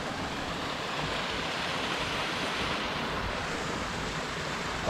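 A small mountain creek in New Zealand hunting country rushes steadily, a dense, even broadband wash of flowing water that holds without a break and with no voices.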